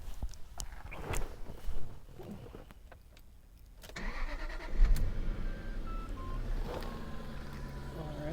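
A 2006 Jaguar XJR is started close by: clicks and a brief crank catch into the engine, which settles into a quiet, low exhaust idle with a few faint clunks over it.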